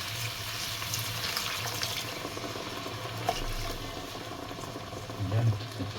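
Hot water is poured into a pan of seafood sotanghon guisado, a steady, soft liquid wash with faint bubbling and low background hum throughout.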